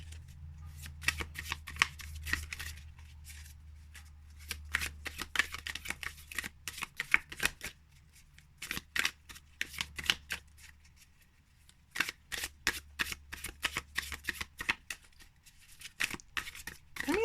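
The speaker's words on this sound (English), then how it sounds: "I mean, it shuffles pretty well." A tarot card deck is shuffled close up, with rapid bursts of crisp riffling flutters repeating in irregular runs and short pauses between them, no talking.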